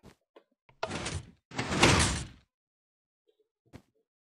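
Two loud, close piston bursts come from a Minecraft 3x3 redstone door opening and closing. A few faint clicks and a small tap follow in quiet surroundings.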